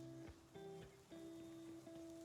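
Soft patter of rain mixed with gentle, mellow stream music with steady sustained tones, continuous and moderately quiet throughout.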